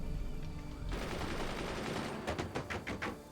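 Weapons fire in the strategy game Forts, a dense rapid burst of gunfire that continues for a few seconds, ending in several distinct heavy shots, with no talking.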